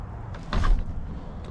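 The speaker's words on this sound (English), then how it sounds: "That door will hang open." A door on a truck camper swings and thumps, its strut worn so it hangs open, one short muffled movement sound alone in a quiet setting.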